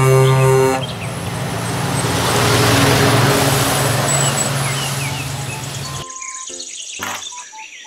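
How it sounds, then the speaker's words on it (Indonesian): A toy oil tanker truck gives off a loud, steady engine-like rumble with tonal horn toots at the start, then cuts to a brighter burst of chirpy electronic beeps near the end. "Mobil truk tangki"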